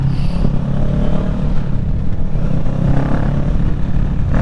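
A 2023 Kawasaki Ninja 650 motorcycle engine runs close and loud with a steady rough drone, rising briefly in a rev toward the end, with no talk over it.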